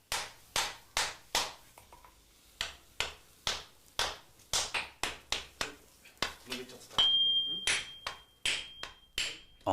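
A Japanese swordsmith's hammer forging Tamahagane steel on a tekogane plate, sharp ringing blows struck close in a steady repeated rhythm, with a thin high tone sustaining briefly near the end.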